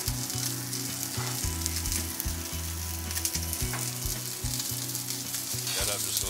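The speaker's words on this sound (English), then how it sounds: "Moving that fat around in the pan a little bit, make sure it's browning evenly." Fat sizzling and browning steadily in a frying pan, a loud, continuous close-up crackle with occasional stirring scrapes, no voices.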